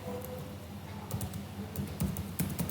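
Keys clatter on a computer keyboard while code is typed, quick irregular bursts of clicks with short pauses, close and fairly quiet against a faint background hum.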